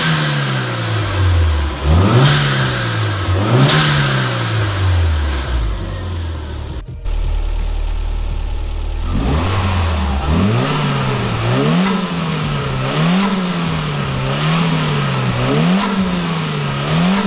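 Toyota Supra engine revved repeatedly after being pulled out of a garage, loud and close, with rhythmic rising and falling revs, a brief drop near the middle, then more repeated blips.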